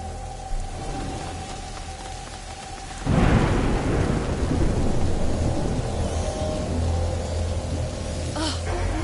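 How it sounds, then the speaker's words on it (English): Thunderstorm in the video game A Plague Tale: Innocence, with a sudden loud thunder crack and rolling rumble breaking over steady heavy rain that keeps pouring afterward. "Did you see that? The lightning bolt."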